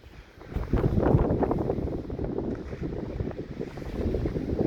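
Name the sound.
wind outdoors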